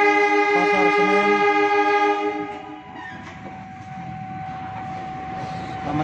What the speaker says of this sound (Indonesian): tepat pukul 5 kereta api berantas diberangkatkan dari stasiun Pasar Senen.